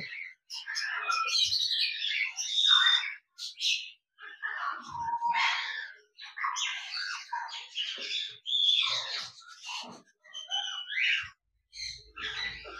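Eclectus parrots in an outdoor breeding set-up give loud, harsh squawks and chattering calls in bursts with short pauses between them, close by and with no talking.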